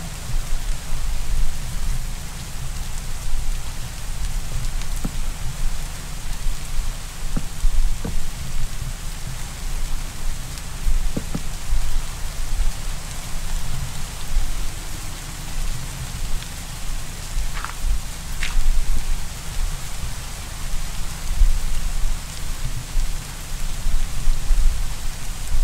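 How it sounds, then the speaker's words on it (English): Steady rain falling in Minecraft, a loud continuous hiss with a low rumbling undertone and a few faint clicks, unbroken and even for the whole stretch, with no voices over it. "Oh, of course it's going to rain."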